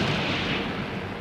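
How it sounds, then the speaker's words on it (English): A bomb explodes aboard an aircraft carrier during a fire, producing a loud, dense roar that fills the whole moment and rumbles on without pause. "The explosion kills Ferrier and most of the other experienced firefighting crew."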